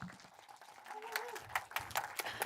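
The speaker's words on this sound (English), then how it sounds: "Round of applause" Audience applause at a startup fair pitch battle, a dense patter of clapping that swells partway through and continues under talk and a few cheers.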